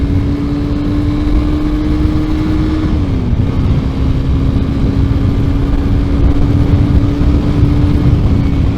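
A 2018 Honda CB300F motorcycle engine drones steadily while riding, a loud continuous hum with wind rush, its pitch holding level and dipping briefly once as the speed changes.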